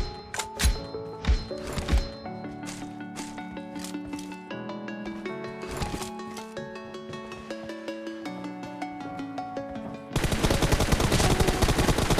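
Video game shooter gunfire rings out as sharp, separate bursts of shots over steady musical tones, followed by a dense, loud stretch of noise at the end.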